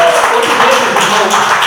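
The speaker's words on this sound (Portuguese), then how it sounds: "Pode aplaudir o Senhor Jesus nessa noite." A church congregation applauding at an evening service, with dense, continuous clapping that stays close and loud for a short burst with no pauses.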